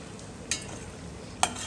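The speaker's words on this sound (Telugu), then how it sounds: "ఇప్పుడు ఫ్రై చేసి పెట్టుకున్న చికెన్ని మళ్ళీ అందులో వేసి ఫ్రై చేసి" Fried chicken pieces sizzle steadily in a pan as they are tossed again for dragon chicken with chili flakes, with two sharp clinks of a utensil against the pan.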